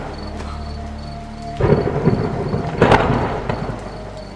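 A night-time Kalbaishakhi thunderstorm effect from a Bengali ghost cartoon: a steady hiss of rain is broken by a sudden loud thunder crash, then a second rumbling peak that fades away.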